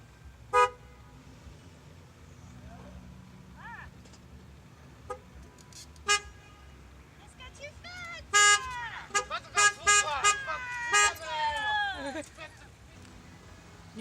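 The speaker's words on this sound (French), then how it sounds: "il y a un embouteillage terrible aux Champs-Élysées" Car horns honk repeatedly in a traffic jam on the Champs-Élysées in Paris, with a few isolated blasts early, then a dense cluster of overlapping toots, loud against a steady low rumble of idling traffic and voices.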